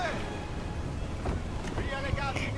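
A storm at sea in Assassin's Creed Freedom Cry roars around a sailing ship: steady, dense rushing wind with rising gusts and churning water, loud and unbroken, with a voice faintly underneath.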